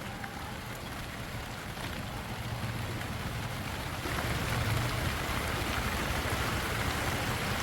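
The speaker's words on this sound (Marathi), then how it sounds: "आज बघा पाऊस आहे" Rain falling steadily outdoors in a Maharashtra village, a dense, even hiss that swells slightly heavier partway through, with no voices.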